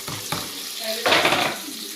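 Onion and tomato go into hot oil in a pan for a tamarind okra curry, a burst of sizzling with a couple of spatula scrapes and clatters over a short stretch.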